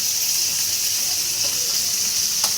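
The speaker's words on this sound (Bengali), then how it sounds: "সকালে ভাত খাওয়ার জন্য দেখেন মাছ ভাজতেছি।" Fish frying in hot oil in a pan, a loud, dense, steady sizzle heard up close, with one brief utensil scrape near the end.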